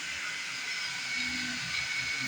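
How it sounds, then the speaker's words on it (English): 3D printer cooling fans in a print room with several machines running, a steady airy hiss and whir with faint tonal hum, constant and unbroken throughout. "You can turn your fan, adjust your fan, and it adjusts the noisiness."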